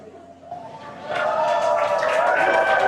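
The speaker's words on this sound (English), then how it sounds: "obviously some happy cheers as the crowd is growing outside of Mission Control Hawthorne" A crowd gathered outside SpaceX Mission Control in Hawthorne during rocket fuelling gives happy cheers that swell from a low murmur into a loud, sustained roar of voices.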